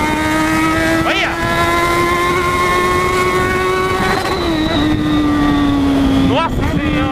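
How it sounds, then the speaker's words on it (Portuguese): A Yamaha XJ6 motorcycle roars past at high speed on a cold city street at night, its steady engine drone rising and falling loudly, with wind rush and voices talking over it. "a moto tá andando"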